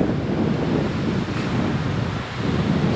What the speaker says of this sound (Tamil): ஆனால் அலை ரொம்ப பயங்கரமாக அடிக்குது